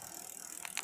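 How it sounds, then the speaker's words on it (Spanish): A spinning rear wheel on a Giant Tracker Sport 32 bicycle freewheels with a rapid, even pawl ratchet from the hub, heard briefly and close up with a few sharper ticks at the end. "Vamos a ver cómo suena la masa trasera, que es una Gian Tracker Sport 32."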